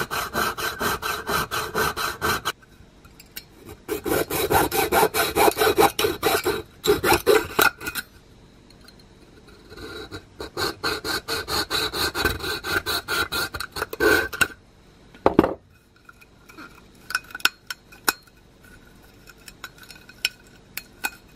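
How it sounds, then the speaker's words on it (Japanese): A hand file rasping metal in long, large strokes while an alcohol stove is being made, loud steady back-and-forth bursts close up, broken by a couple of short pauses and lighter scrapes near the end. "少しだけ浮かす感じでヤスリがけしていきます。"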